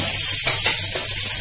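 Spices tempering in hot oil for tomato dal give a loud, steady sizzle and hiss close by, swelling in brief bursts, with no talking.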